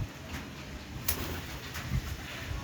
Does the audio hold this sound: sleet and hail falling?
no